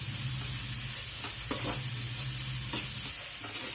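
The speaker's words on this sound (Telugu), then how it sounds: "ఇప్పుడు దీన్ని కూడా ఫ్రై చేసేయండి" Chapati stuffing with chopped coriander fries in a hot pan, a steady close sizzle broken by a few soft scrapes of a stirring spoon.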